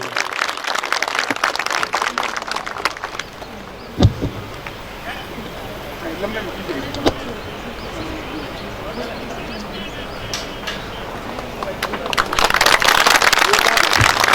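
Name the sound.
audience clapping at a Hindu gathering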